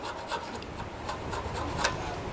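Old gasket being scraped off the carburetor mounting surface of a Craftsman edger engine, a steady close rasping rub with a few brief louder strokes, heard alone.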